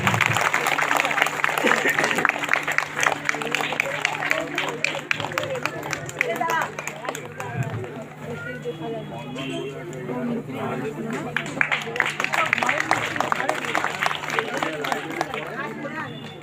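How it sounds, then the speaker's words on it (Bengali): Crowd applause at the inauguration of the Sri Sri Panchanan Baba temple in Sonarpur Noapara, Panchanan Tala: steady, dense clapping lasting throughout, mixed with voices and murmuring from a gathered audience. "সবাই মিলে একটু জোরে করতালি দেবেন।"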